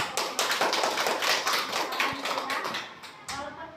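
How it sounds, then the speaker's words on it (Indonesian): Spirited group hand clapping in a classroom-style gathering, a dense, fast rush of sharp claps that runs steadily for the whole stretch and tapers slightly near the end, with a brief lull before a final burst. "Boleh kita silakan tepuk tangan semangat"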